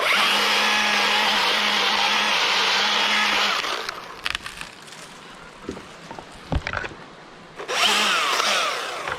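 A chainsaw cutting through a skinny, wobbly tree during a removal, racing loudly at full throttle for about four seconds, then dropping to a sputtering idle with knocks and cracks before revving hard again near the end.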